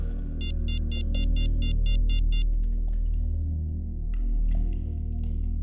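An outgoing phone call: a fast series of about ten short, evenly spaced electronic ringback beeps in one burst, then stopping, with a low steady hum and background music underneath.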